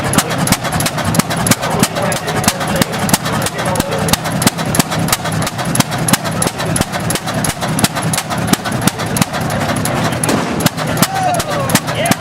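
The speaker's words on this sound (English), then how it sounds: "Mr. Doug Seymour from LaPorte, Indiana, trying to get his 1918 Mogul 1020 going." A 1918 Mogul 10-20 tractor engine running at a tractor show, a loud, close, rapid chain of sharp exhaust pops with an even, hard-hitting rhythm that continues throughout.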